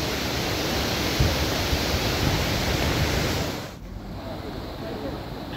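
River waterfall with clear water at Pozzo di Domaso in Italy, a dense steady roar of falling water close by that drops slightly in level near the end, no talk.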